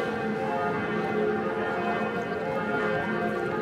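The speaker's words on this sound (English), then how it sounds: "So it's ringing the 10 o'clock bells," Munich's town hall clock tower rings its ten o'clock bells, a steady run of sustained, overlapping tolls heard from the street at moderate distance, with no one speaking.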